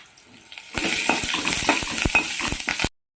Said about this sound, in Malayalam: കടുക് മൂത്തിട്ടുണ്ട്. നമ്മൾ മുളക് ഇടാൻ പോവുകയാണ്. അതിനൊപ്പം തന്നെ കരിയാപ്പില ഇടുവാണ്.